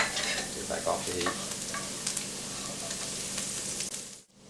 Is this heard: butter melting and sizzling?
yes